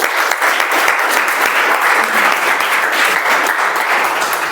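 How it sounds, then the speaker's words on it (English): A crowd at a Toastmasters meeting claps steadily, a dense, sustained round of applause from many hands, fairly close and unbroken for several seconds. "Can we have a round of applause for them?"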